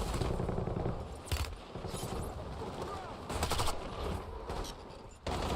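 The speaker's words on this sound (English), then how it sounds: "I don't know who's shooting at me." Gunfire in the Warzone shooter game, with bursts of automatic shots cracking out at irregular intervals, some loud and close, others further off, and bits of talk in between.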